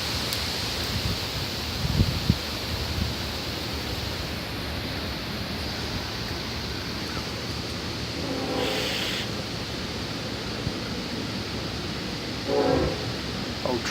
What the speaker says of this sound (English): Old trusty train.